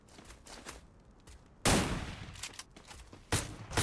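Bursts of gunfire from the Free Fire video game, a few short volleys followed by a loud sustained burst midway and another sharp burst near the end, no voices.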